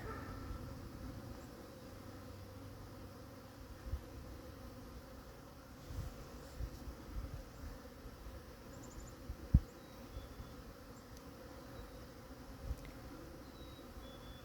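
Honeybees buzzing around a backyard hive on a mild February day, a faint, steady drone running throughout, with a few soft knocks and one sharp click partway through.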